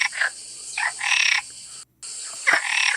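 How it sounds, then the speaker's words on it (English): A frog croaks repeatedly in rasping, buzzy calls, several in a loose rhythm with a brief total dropout midway, heard as playback from an online video with a constant hiss behind it. "I searched for a frog voice."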